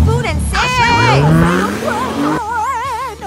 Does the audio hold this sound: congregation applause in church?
no